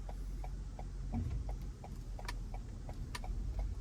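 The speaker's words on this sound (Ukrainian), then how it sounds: "Чути тільки поворотник." Soft, regular ticking of a crossover SUV's turn signal, evenly spaced clicks over a low engine hum, no talking.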